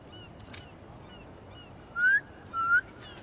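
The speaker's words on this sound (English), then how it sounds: "Try a whistle." A whistle calling pigeons in the video game Marvel's Spider-Man 2: two clear rising whistle tones, each under half a second, with a brief gap between them, set over a soft ambient background.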